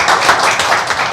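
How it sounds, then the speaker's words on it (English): Applause from the audience at a Town of Paradise town council meeting, a steady, dense wash of clapping hands filling the room at close range without pause. "that applause will be well-deserved here"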